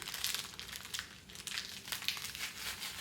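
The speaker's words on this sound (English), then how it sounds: "Sorry if there's crinkling." A small plastic bag holding 10-gram mini skeins of yarn crinkles steadily and softly in close-up, with bursts of rustling throughout and no talking.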